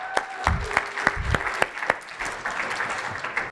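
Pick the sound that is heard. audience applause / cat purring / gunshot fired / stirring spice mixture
audience applause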